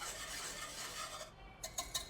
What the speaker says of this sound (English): whisk those in